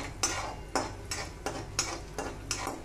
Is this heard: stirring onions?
yes